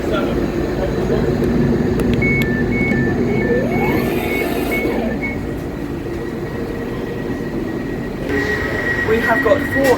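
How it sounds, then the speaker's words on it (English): Steady rumble of a moving Transport for Wales Class 231 Stadler FLIRT electric train heard from inside a carriage, with rolling wheel noise, rising motor whine and a few high chimes. "Today I'm going to be riding the Transport for Wales Class 231"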